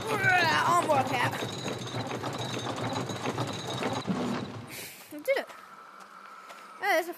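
A wrench cranking a ratchet mechanism in the zombie VR game Arizona Sunshine, a steady run of close mechanical clicking and grinding for several seconds, followed by quieter scattered sounds.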